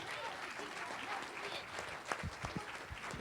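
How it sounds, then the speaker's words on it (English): Applause from an audience at a teen panel Q&A, a steady wash of clapping with some louder individual claps toward the end, fairly moderate in level. "So can we give the panel a big round of applause?"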